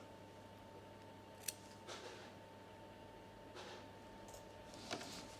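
Scissors snip through fabric threads at a sewing machine, a few sharp, quiet cuts spaced apart against a faint steady hum, no speech.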